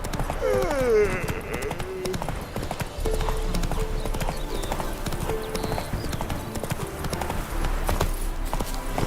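Hooves of the horse in The Witcher 3 galloping in a fast, steady clip-clop rhythm, close and prominent, with a brief whinny near the start and game sounds behind.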